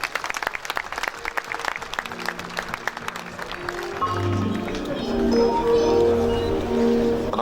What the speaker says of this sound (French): Applaudissez pour les pasteurs.